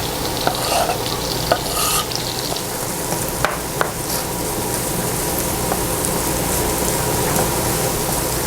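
Onions sautéing in a pan for a meat casserole give a constant, fairly loud crackling sizzle with a few light utensil clicks, no talking.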